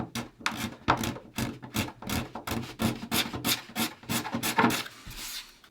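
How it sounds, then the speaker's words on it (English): An emery board rasps back and forth over cured epoxy fillets on a wooden Bouchie Dory under construction, a steady run of close, loud filing strokes in an even rhythm with no talking. "This is just an emery board for doing nails"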